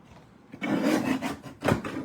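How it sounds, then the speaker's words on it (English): A paper trimmer slices through a large sheet of paper for a desk organizer craft, giving a close rasping, rubbing cut that runs for about a second, then a second shorter stroke, with no talking. "I'm gonna throw this big guy in my trimmer"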